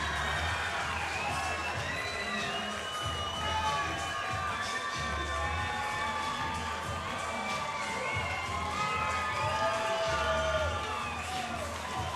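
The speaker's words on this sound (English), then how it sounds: "And the crowd erupts for Ben Bama Elmore" A crowd at a Kansas City Fighting Alliance mixed martial arts event erupts in loud, sustained cheering and shouting for fighter Ben Elmore, a dense roar of voices with whoops that stays strong throughout.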